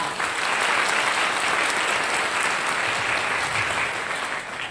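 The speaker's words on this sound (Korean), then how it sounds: "송영호 선생님, 큰 박수로 환영해 주시기 바랍니다" Audience applause welcoming a guest speaker, an English teacher, at a teacher training institute lecture in Korea; steady, dense clapping from a large crowd fills the whole stretch at even loudness, with a slight fade at the end.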